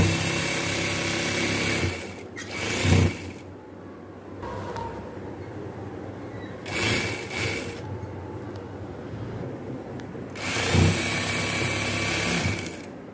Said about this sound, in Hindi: तो इस तरह से हम सिलाई लगाएंगे